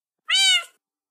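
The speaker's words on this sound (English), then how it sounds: "I guess you're my cat?" A cat gives a single clear, close meow lasting about half a second, with no talking around it.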